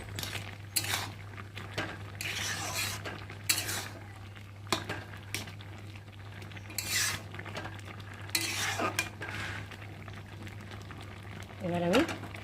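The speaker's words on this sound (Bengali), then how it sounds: "আর এখন আমি খুন্তি দিয়ে একটু ভালো করে নেড়ে দেবো।" A spatula stirs boiled colocasia leaves in a wok, scraping and clinking against the metal in repeated strokes, with a steady low hum running underneath and brief bursts of sound between stirs.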